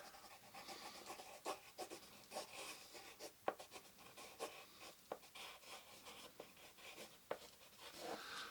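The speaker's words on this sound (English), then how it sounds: "I have to write a few notes down" A pen scratches notes onto paper at a doctor's side, soft, close and intimate, with uneven strokes and small taps sounding alone at a low level.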